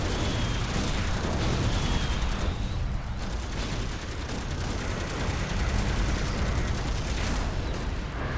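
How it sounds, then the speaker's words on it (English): Sustained, dense barrage of enemy fire aimed at the player in the City of Heroes game, a steady rumbling wash of shots and bursts without pause, loud and continuous with no talk. "Oh god, they're shooting at me."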